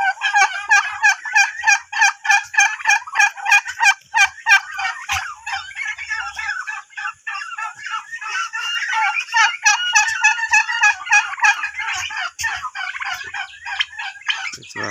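Turkeys on a small poultry farm kept alongside chickens gobble loudly and repeatedly in rapid, overlapping bursts, a near and continuous chorus with no talking.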